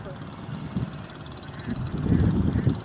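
A tractor plows a flooded rice field, its engine droning and surging louder toward the end over a rumbling, wind-buffeted background.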